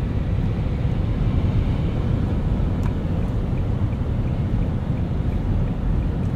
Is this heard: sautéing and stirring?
no